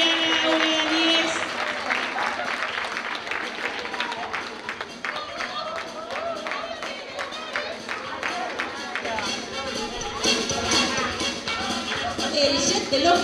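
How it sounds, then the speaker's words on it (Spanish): Audience applause at a workplace celebration event, a long wash of clapping from a crowd, with voices and cheering mixed in and a swell near the end. "Aplausos para Viviana Aurea 10."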